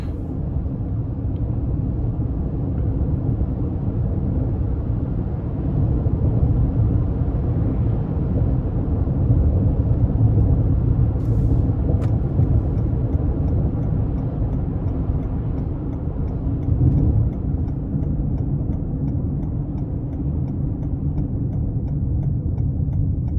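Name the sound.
2021 Toyota Highlander XSE driving on bumpy road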